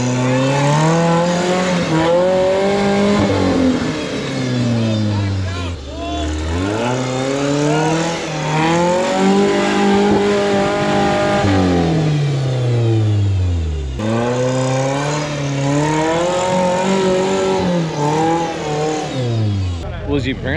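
An off-road rig with a stock 2.2 liter Mitsubishi diesel engine revs repeatedly, the pitch climbing and dropping in several long surges, loud and close.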